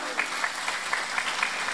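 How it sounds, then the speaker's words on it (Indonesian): Clapping from a women's congregation at a large village religious gathering, a brief steady patter of hands that sits under a voice talking. "tepuk tangan dulu dong"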